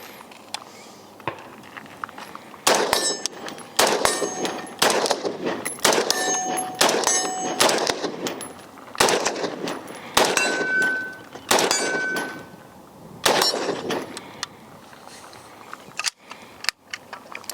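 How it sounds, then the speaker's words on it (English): PSA JAKL 14.5 rifle fired at a range, with a string of sharp shots each followed by a bright metallic ring from steel targets, steady and fairly loud, with no talk. "we're gonna have her shoot her first rounds"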